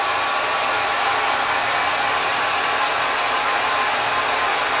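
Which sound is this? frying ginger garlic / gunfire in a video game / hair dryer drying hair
hair dryer drying hair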